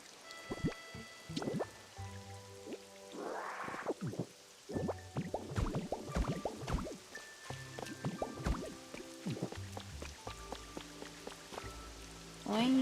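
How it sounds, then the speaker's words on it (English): Rain falls in a cozy town-decorating video game, heard as scattered drips and splashy plinks at an irregular rhythm, with light chiming tones mixed in and no talking. "Make it rain a little or something."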